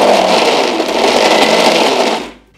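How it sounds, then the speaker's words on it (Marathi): A kitchen mixer grinder whirring loudly as it coarsely grinds soaked lentils and rice in one short burst, then stopping and winding down. "आता हे भिजवलेले डाळ तांदूळ आपण मिक्सरमधनं रवाळ असे काढणार आहे"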